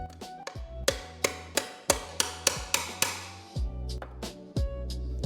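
Back end of a socket tapping seals into a Renault Clio 172/182 JC5 gearbox, a dozen or so sharp, ringing metallic knocks at an uneven rhythm, close and loud, with no talking.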